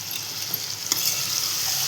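Mixed vegetables of cluster beans, carrots and peanuts being stirred in a hot pan, a soft steady sizzle with a few faint spoon scrapes and taps.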